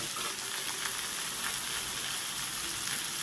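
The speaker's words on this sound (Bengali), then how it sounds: "অল্প তেলেতেই বেগুনটা নেড়ে চেড়ে ভেজে নেব।" Eggplant frying in a small amount of oil in a pan, a steady bright sizzle with faint scraping as it is stirred, close and even throughout.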